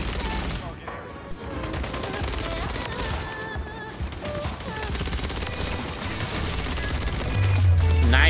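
Rapid ISO 9mm submachine gun fire in Call of Duty MW3 rattles in dense, continuous bursts throughout, with layered in-game gunfire and effects.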